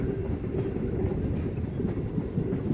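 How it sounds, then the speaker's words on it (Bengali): A passenger train departing Habaspur station on the Masagram–Bankura route rumbles steadily, its wheels clattering over the rails in a continuous low roar close by. "ট্রেন ছেড়ে দিল হাবাসপুর থেকে।"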